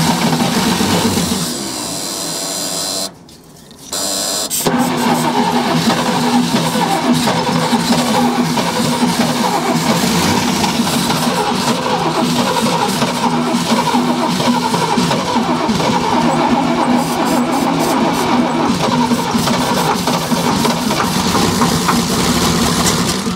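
A 1975 International 1800 truck engine fires up for the first time in 24 years after a brief cranking pause, then runs steadily, loud and close, with a rough idle and revving, no talk over it.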